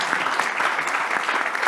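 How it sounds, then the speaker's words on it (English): Audience applause for lecture speakers, a steady dense clatter of many hands clapping throughout, fairly loud and continuous with no voices over it. "let's give a warm round of applause for our speakers today"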